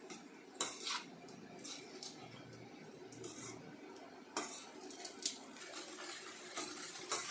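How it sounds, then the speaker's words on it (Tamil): A metal spoon stirs tamarind rice in a pan, making soft intermittent scrapes and clinks close by, with quiet stretches between the sharper strokes. "நம்ம இது கொஞ்சம் சாதம் சூடு ஏற வரைக்கும் இது கலக்கினே இருக்கணும்"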